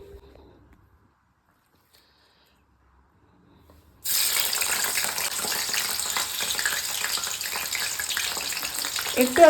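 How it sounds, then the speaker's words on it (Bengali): Vegetables for Maggi noodles go into hot oil after a few quiet seconds, and a loud, steady frying sizzle then fills the rest of the clip, close by, with a brief clatter near the end. "একটু আমি ভেজিটেবলগুলো ফ্রাই করে নেব।"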